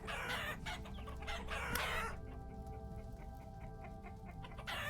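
Chickens cluck with a rooster among them in Vintage Story, a dense burst of close clucking that thins into sparser, softer calls before picking up again.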